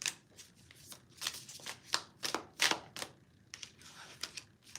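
Graffiti Tarot cards are shuffled by hand at close range, with quick riffling bursts and soft slaps in an irregular rhythm and no talking.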